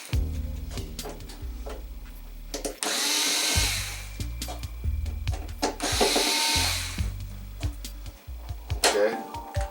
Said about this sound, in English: I'm gonna pull these screws out.